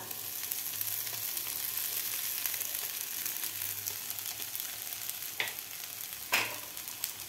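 Soaked sabudana being stirred into golden potatoes frying in ghee in a pan, with a steady close sizzle throughout and a few sharper scraping strokes of the spoon near the end.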